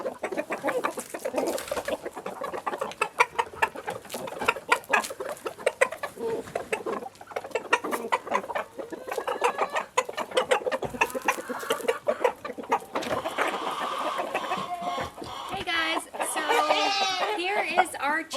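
Hens cluck and squawk continuously inside a farm chicken coop, close and busy, with rapid overlapping calls building into louder excited cackles toward the end.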